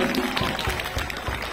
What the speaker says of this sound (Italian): Facciamo un applauso a Gesù